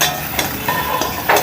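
Pitha rice cakes frying in a pan with salt and turmeric, a steady close sizzle with a few brief stirring scrapes.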